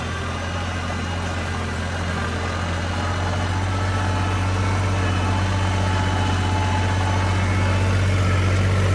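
A loud Holland tractor engine pulling a rotavator runs continuously at a steady, deep, rumbling drone, unchanging for the whole stretch, with no voices.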